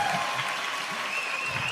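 An audience at a temple concert gives steady, continuous applause, a dense wash of claps at even loudness with faint crowd murmur underneath.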